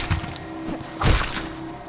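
Thuds from striking barnacle enemies in a Hollow Knight–style video game: a couple of short, dull thumps, the loudest near the middle, over a faint steady background hum.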